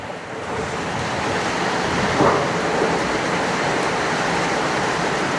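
Steady rain pours down with a broad, dense hiss and wind buffeting the microphone, with one brief rumble in the middle, loud and continuous throughout.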